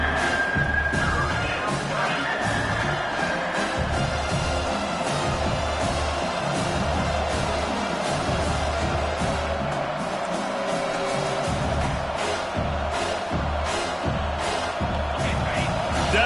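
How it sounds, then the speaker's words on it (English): A stadium crowd in an American football video game roars continuously as a steady, dense wash of cheering on third down, loud and unbroken, with an announcer's voice faintly over it. "Decibels rising as the crowd gets behind this defense on 3rd down."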